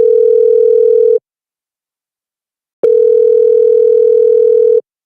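A telephone ringback tone on an outgoing call sounds as two loud, steady buzzing tones of about a second and a half each, separated by a silent gap. It is clean and close, with nothing else heard.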